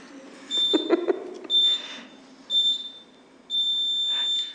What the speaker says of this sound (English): then you will hear a whole bunch of beeps